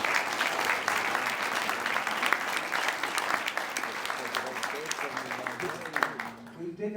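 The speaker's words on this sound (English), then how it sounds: "So let's give them a huge round of applause for putting their hand up." A crowd at a candidates' meeting applauds volunteers on stage, dense sustained clapping with some voices mixed in, fading out near the end.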